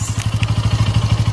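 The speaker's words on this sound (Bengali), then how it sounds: "এখন আমরা শুনবো ইঞ্জিন নয়েজ" A Bajaj Pulsar N160 motorcycle engine idles up close, giving a loud, steady, rapid thumping pulse.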